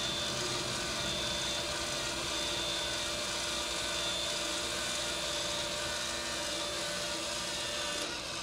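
Motorized bed of a DTG Viper direct-to-garment printer lowering, a steady whirring motor hum that runs unbroken and fairly quiet, with no talking.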